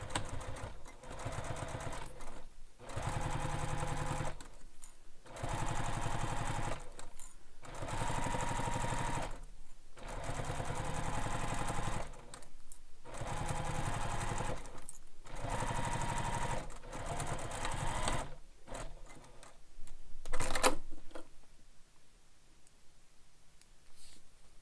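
A sewing machine stitches a bag handle or strap in repeated bursts of fast, steady whirring with short pauses between runs. It sounds close and fairly quiet and stops near the end.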